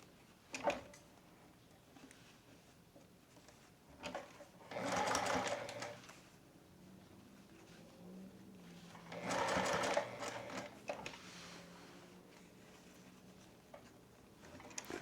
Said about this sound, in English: I'm just going slow and working this bias tape just a few stitches at a time.